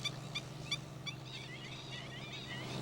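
Watercock parents call beside their nest in a rice paddy, a run of short repeated bright notes followed by warbling higher calls over a low engine hum in the background.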